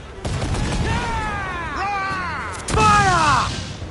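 Cannon fire in a naval battle in Assassin's Creed IV Black Flag, booming volleys under shouted crew voices and rising whistling tones, loud and close.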